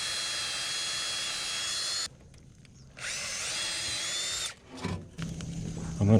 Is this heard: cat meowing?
no